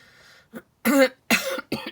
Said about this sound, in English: I'm still trying to shift this cough.